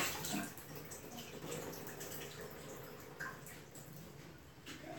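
Water runs steadily as aquarium sump filter pads are rinsed out, a continuous splashing flow with small drips and bursts throughout, close and moderately loud with no talking.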